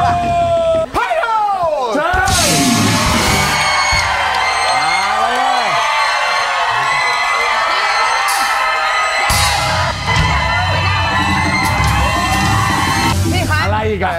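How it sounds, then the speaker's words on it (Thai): A television studio audience at a Thai singing-competition final cheers, whoops and applauds to welcome the defending champion, a loud, sustained crowd roar lasting several seconds, with a host's voice speaking over the start and end. "ขอเสียงปรบมือต้อนรับผู้ที่จะมาป้องกันแชมป์ของเรา"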